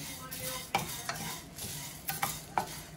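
Toor dal, rice and spices are dry-roasted in a pan for Tamil curry powder, with a soft steady sizzle and several sharp scrapes and clinks of a spatula stirring against the metal, fairly quiet and close with no talking.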